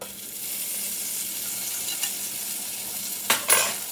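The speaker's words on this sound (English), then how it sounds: "So we're going to just go melt that butter, cook that garlic for a minute." Garlic cooks in melted salted butter in a pan, giving a steady, soft sizzle throughout, with a couple of brief sharper scrapes near the end.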